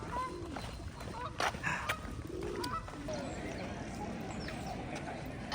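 Geese honking around a London park on the morning before the London Marathon, several nearby calls rising over steady outdoor crowd murmur and scattered voices.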